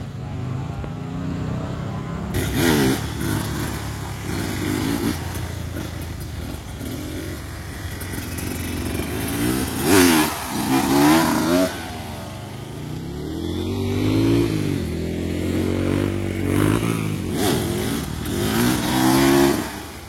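A motorcycle with a special engine revving for a slow wheelie, loud and close, with repeated rising and falling throttle sweeps and sustained high revs over about twenty seconds, with no talking.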